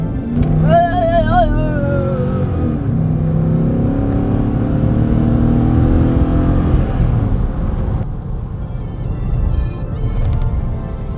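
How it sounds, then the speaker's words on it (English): A 2011 GMC Sierra 1500 pickup engine runs with a misfire, heard loud and close as a rough rumble that swells briefly. A voice comes in near the start. "Yeah, it's a misfire."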